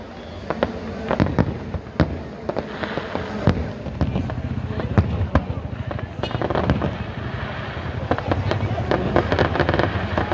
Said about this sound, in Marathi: सुंदर अशा फटाक्यांच्या आतिषबाजीत देवभेटीचा हा सोहळा संपन्न होताना आपण पाहत आहात।